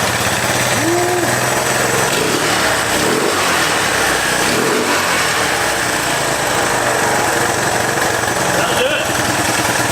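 An old three-wheeler ATV with a rebuilt carburetor runs close and loud, its small engine clattering at a rough, steady idle for the whole stretch.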